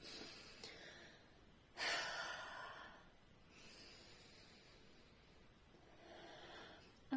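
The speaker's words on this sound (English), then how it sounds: "take a couple of deep breaths" A person takes deep breaths during a relaxation tapping exercise, with one loud inhale-exhale burst near the middle and softer breaths before and after, close and otherwise quiet.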